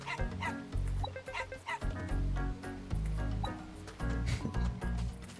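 A dog in the game Fantasy Life gives repeated short barks and yips in a bouncy rhythm over cheerful game music, loud and close.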